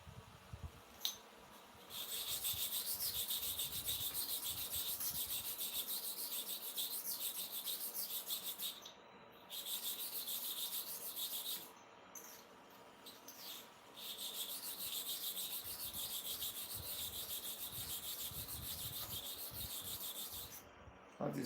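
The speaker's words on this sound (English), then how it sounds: "Let me sharpen the second one." Clipper blades scrape back and forth against a broken sharpening stone in steady, gritty rasping strokes, close and continuous, with a few brief pauses between runs.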